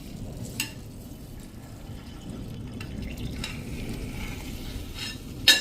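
Hot ghee, cleaned of residue after curd was added, being poured through a metal strainer: a steady low sizzling, trickling wash with a few sharp metallic clinks at the start and a loud clank at the end.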